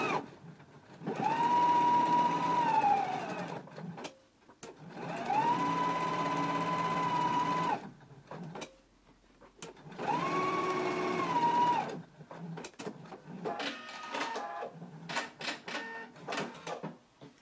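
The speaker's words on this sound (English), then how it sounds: "Now we're going to go to the machine and stitch these along the side and the lower edges" A sewing machine stitches the side and lower edges of pant pieces in three sustained runs, each a few seconds of close, even whirring with a rising then steady motor pitch, followed by lighter clicking and handling sounds.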